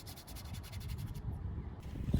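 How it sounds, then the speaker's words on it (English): A brush scrubs oil paint hard into canvas weave while painting outdoors at Bass Point in Cornwall, giving a soft, continuous close rubbing and scratching with faint quick strokes and no talking. "So I'm to work quite hard into that canvas weave to scrub the colours into it."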